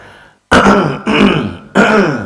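A man imitates throat clearing, three loud, close, separate hems in quick succession with nothing else audible.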